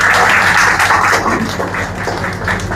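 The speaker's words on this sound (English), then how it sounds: "give her a round of applause" Dense, steady applause from a dinner audience fills the room at the 50th anniversary celebration of the St Thomas Lions Club, held at the Whispering Bamboo. The clapping stays loud and continuous throughout, easing slightly toward the end.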